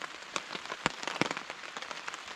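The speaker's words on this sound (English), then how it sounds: "And we are looking at more rain." Rain falls on a tarp at a wet coastal campsite in Desolation Sound, British Columbia, with close, irregular sharp drops spattering over a steady patter.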